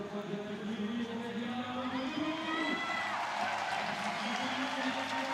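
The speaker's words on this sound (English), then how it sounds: "Zelia Avezou gets a big goodbye from the crowd as she leaves the stage" A crowd at a Chamonix lead climbing semi-final cheers and applauds as a climber leaves the stage, a steady roar of clapping and whoops running the whole time with a commentator talking over it.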